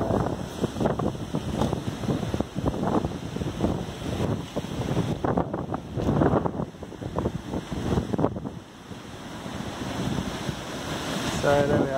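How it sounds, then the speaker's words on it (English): Wind buffets the microphone over surf washing against the shore, a steady rough rush with gusts rising and falling throughout. "I'll just give you a look at what the weather's like out here"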